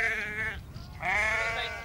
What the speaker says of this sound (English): We found the sheep and saw Cal, the sheepdog, hard at work.